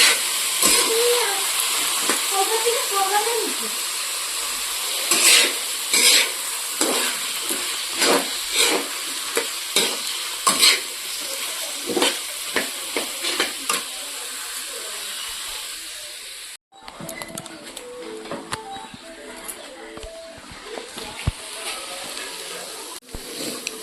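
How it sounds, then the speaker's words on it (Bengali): Carrots sizzle in a hot pan while being stirred, with repeated sharp scrapes and clatters of a spatula over a steady frying hiss, and the sizzle softens to a quieter crackle in the last stretch. "তো গাজরগুলো দিয়ে দিচ্ছি।"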